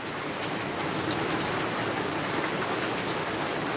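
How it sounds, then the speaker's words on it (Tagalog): Heavy rain pours steadily in a dense, even hiss, loud and continuous from start to finish with no voices. "Ayan, grabe, hihina siya, tapos biglang bubuhos na grabe napakalakas."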